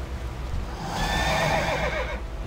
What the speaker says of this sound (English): Oh, my horse, I'm still on my horse.